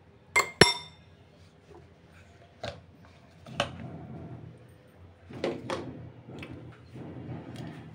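A spoon strikes the inside of a glass of tea as powdered milk is stirred in, giving two sharp clinks at the start and then a few softer, irregular taps and scrapes close by in a quiet room.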